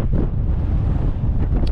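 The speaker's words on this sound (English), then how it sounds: "You probably can't hear anything because it's so windy." Strong wind buffets the microphone on an exposed stretch of the Skye Trail in Scotland, a loud continuous low rumble with gusty fluctuations and no talk.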